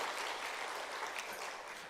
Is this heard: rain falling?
no